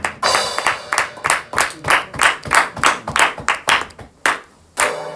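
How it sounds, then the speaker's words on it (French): A church congregation claps together in a steady, loud rhythm of sharp hand claps, acclaiming Jesus; the beat stumbles briefly near the end before resuming. "On acclame Jésus, bien-aimé"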